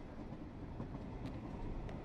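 A train runs in the video game Blackwood Crossing, producing a steady low rumble with faint rhythmic clicks, without talk.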